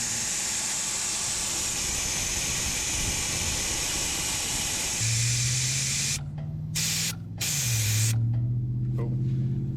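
Air rushes from a vehicle tire with the valve stem core pulled out, a loud steady hiss that goes on for several seconds before it is briefly interrupted and then resumes.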